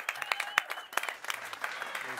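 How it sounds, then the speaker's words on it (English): Applause for the Oktagon ring girls at a Czech MMA circus event, a short burst of scattered claps with some crowd voices mixed in. "Round of applause for our Oktagon ladies"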